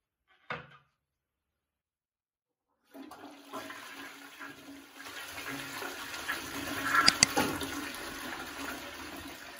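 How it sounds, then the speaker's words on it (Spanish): A click, a short pause, then a freshly repaired toilet cistern flushes. Rushing water swells into a loud gurgling surge and keeps draining steadily, with no voices. "vamos a probar la cisterna a ver cómo ha quedado nuestra reparación"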